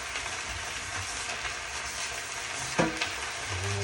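Spinach and onions being stirred in a cast iron skillet, with a steady sizzle of frying throughout and a few scraping stirs toward the end. No talking.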